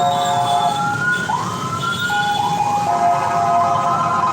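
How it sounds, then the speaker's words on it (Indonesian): A wailing ambulance siren sweeps up and down in pitch over night traffic rumble, loud and close as the vehicle passes. "udah tahu ada ambulan lewat."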